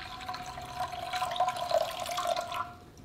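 Water poured into a saucepan for a sweet rice flour paste for kimchi, a steady close trickle and splash lasting a few seconds before tapering off.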